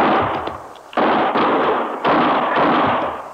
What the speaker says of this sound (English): Start shooting, Chester.